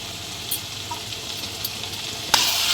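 Potato, grated mango and spices stir-fry in a pan, a continuous quiet hiss and sizzle with a few spatula scrapes and a sudden louder burst of sizzling near the end.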